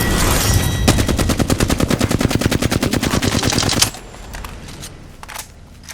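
Automatic hip-fire from a gun in Apex Legends rattles in a fast, loud, even burst lasting several seconds, then cuts off abruptly, leaving quieter scattered game sounds.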